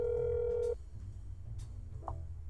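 An apartment intercom telephone in the video game That's Not My Neighbor sounds a steady electronic tone for under a second, then falls quiet apart from a short soft blip, clean and close.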